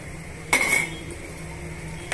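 Dry fruits stirred into rava kesari in a pan, with a sharp metallic clink of the spoon against the pan and a second fainter knock, close and otherwise quiet.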